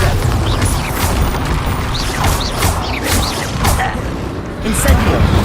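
Bombarda explosion spell in Hogwarts Legacy: repeated booming blasts, crashes and whacks with whooshing, zipping effects across several seconds, loud and busy, with a voice speaking in between.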